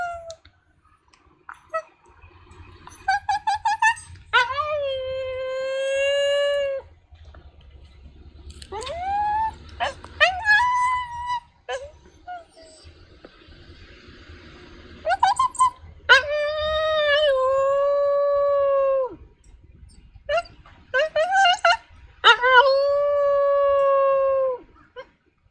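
A New Guinea singing dog howls in long, wavering, pitch-sliding yodels, several drawn-out calls with short yips between, close and loud, with faint background rumble and a person briefly speaking.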